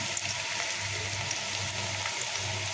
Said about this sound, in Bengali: পেঁয়াজ রসুন দিয়ে দিয়েছি তেলে সরিষার তেল দিয়েছি একটু বাদামি করে ভেজে নিচ্ছি